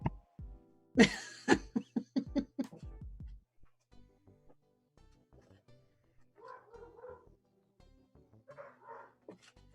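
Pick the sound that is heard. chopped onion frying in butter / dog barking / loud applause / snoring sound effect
dog barking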